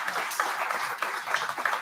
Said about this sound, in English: They deserve their own round of applause